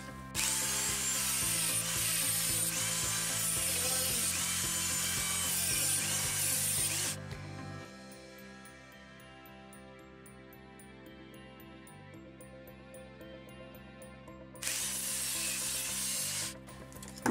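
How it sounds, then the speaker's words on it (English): Handheld Dremel rotary tool cutting into a part of a K40 laser engraver bed, a loud steady high whine for about seven seconds, then a quieter lull, then a second loud cutting burst near the end. "So I'm just going to use my Dremel and do a bit of cutting."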